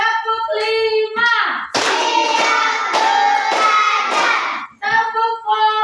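A class of children claps in unison during a counting hand-clap game, a burst of brisk, loud claps filling the middle stretch, framed by children chanting together at the start and end.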